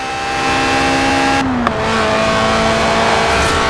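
Mid-engined Lotus Elise 90s roadster in Forza Horizon 4, its engine droning loud and steady at high revs, with a quick gearshift dip midway before the tone settles and carries on.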